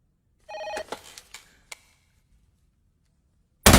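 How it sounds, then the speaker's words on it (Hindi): An old-style telephone bell rings in a few bursts, then stops; after a pause a sudden loud noise cuts in at the very end. "दिल्ली से फोन आया।"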